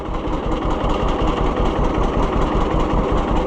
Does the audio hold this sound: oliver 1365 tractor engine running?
yes